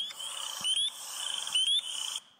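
Spring peeper frogs call in a dense outdoor chorus in early spring, loud and continuous, with sharp rising peeps standing out twice above the steady trilling of many frogs.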